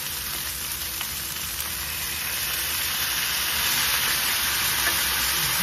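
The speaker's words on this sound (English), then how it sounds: "Now we just add a little bit of cooking wine to it." Quail meat stir-frying in a pan as cooking wine goes in, giving a steady, close broadband sizzle and hiss that builds slightly louder toward the end, with no talking.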